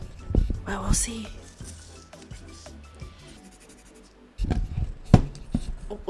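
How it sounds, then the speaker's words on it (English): Pen or pencil writing on paper close to the microphone in an ASMR recording, a series of scratchy strokes and taps, louder in the final two seconds. "Would it pick up if I write something on paper?"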